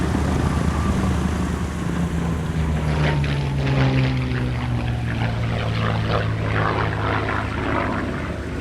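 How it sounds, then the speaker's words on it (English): A Hispano Buchon, the Spanish-built Messerschmitt Bf 109G in Luftwaffe colours, flies a solo airshow display at Duxford, its piston engine droning loudly overhead with a rising and falling pitch as it passes. "we go into a solo display from the Hispano Buchon"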